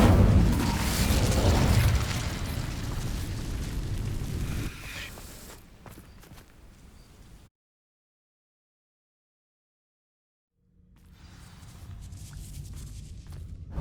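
Spell blasts in the Hogwarts Legacy video game, a loud burst and fiery crackle that fades over several seconds, then near silence before quieter ambient game sound returns.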